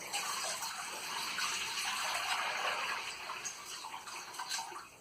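Cold water pours steadily from a tap into a sink, a continuous bright splashing rush with small gurgles, close and fairly quiet, easing slightly toward the end.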